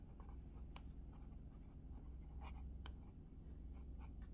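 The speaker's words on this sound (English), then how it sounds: "I'm going to write plant seeds" A pen writing on paper, soft scratchy strokes with a few sharper ticks, faint and close against a steady low hum.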